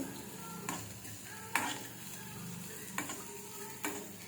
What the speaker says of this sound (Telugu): కాసేపు కలుపుతూ ఉండాలి. ఫ్రై అవ్వాలి.